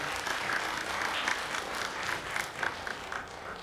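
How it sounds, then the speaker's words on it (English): Audience applause for teachers at a graduation ceremony, a steady dense wash of many hands clapping that holds evenly throughout, with a few sharper claps standing out. "Can you have a big round of applause for the teachers, please?"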